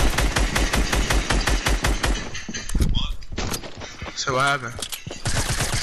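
Rapid bursts of gunfire in the Fortnite video game crackle through the first two seconds and return at the end, with someone talking in between over the shooting.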